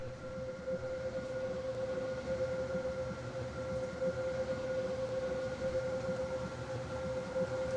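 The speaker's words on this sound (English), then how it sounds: "This train terminates here." A Class 801/802 next-generation train rumbles steadily while arriving at a terminal station, with a sustained tonal whine over continuous low running noise, moderately loud and close.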